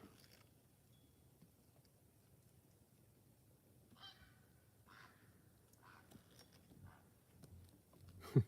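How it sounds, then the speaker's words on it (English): A few faint, distant harsh croaking calls from a great blue heron sound at night in New Brunswick, Canada, over quiet outdoor background, ending with a close soft knock. "Great blue heron calling."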